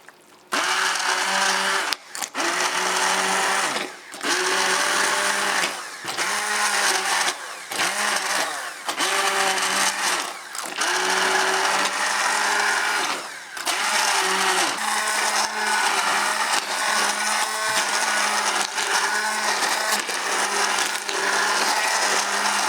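A stick blender purees leek and potato soup, a loud, steady motor whine broken by brief pauses and restarts, churning thickly for over twenty seconds with no talking.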